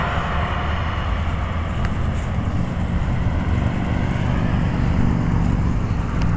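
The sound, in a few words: big truck driving past a plaza parking lot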